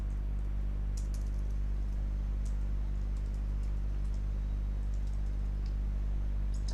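Keystrokes tapped out on a computer keyboard while a command is entered, heard as faint, scattered clicks over a heavy constant low hum.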